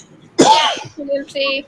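A single loud sneeze bursts out close by, followed right after by a person speaking.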